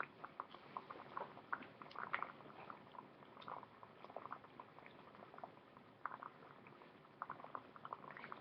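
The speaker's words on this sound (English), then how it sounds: "Adding the baking soda has made the water bubble more and fizzle" Water fizzing and bubbling after half a teaspoon of baking soda is stirred in, a faint, steady crackle of tiny pops and sputters that continues without pause.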